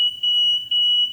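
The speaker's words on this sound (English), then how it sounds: "Initially you get this loss of vacuum alarm down here because it takes it a second for the vacuum controller to come on" An ABB VPM loss of vacuum alarm sounds at power on, a steady high-pitched electronic beep pulsing in three close bursts, loud and alone.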